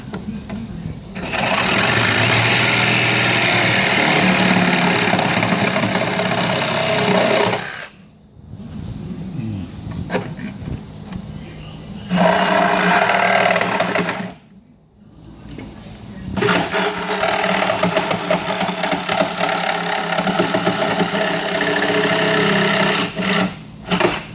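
A small angle grinder cuts back a thin skinny board metal panel during a fabrication install, loud sustained whining bursts broken by two short pauses, with faint talk in the gaps.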